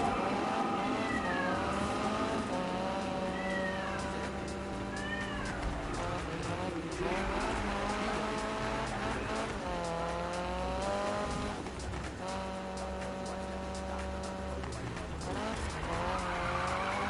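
A race car in a video game revs and screeches, its engine note rising and falling in repeated swoops with tire squeal and skidding throughout, while a voice talks over it.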